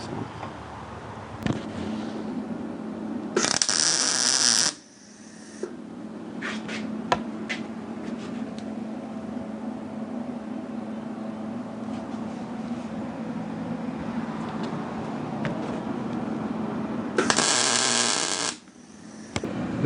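Eastwood MIG 135 welder welding a steel frame hoop, a steady crackling buzz held for long stretches with brief louder hiss bursts at the start and end, close and alone.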